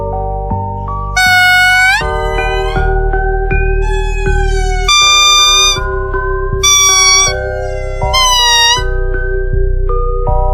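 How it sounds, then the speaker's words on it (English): An indri lemur gives its long wailing call, loud and near, with sustained tones that slide up and down in pitch, repeated across the clip alone without any talk. "Top 6 Indri Lemur Monkey."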